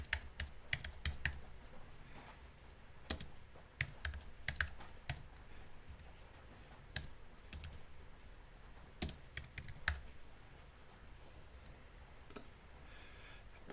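Keystrokes on a computer keyboard while entering uppercase text in CAD software, sounding as faint, close, irregular clicks in short bursts with pauses between them.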